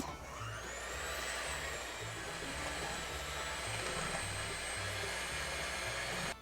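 An electric mixer beats powdered sugar until smooth for a possum pie filling, giving a steady, loud motor whir that runs unbroken from start to finish with no voices.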